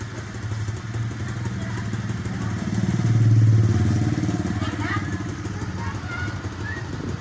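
A TVS King auto-rickshaw engine chugs at idle, swelling louder for a few seconds before settling back, with people talking nearby over the running motor.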